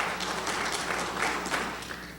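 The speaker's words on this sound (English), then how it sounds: "All those who support Senator Bob Dole, please applaud." Audience members clap for Senator Bob Dole during a 1996 election show of hands, a moderate, thinner patter of applause that tapers off toward the end.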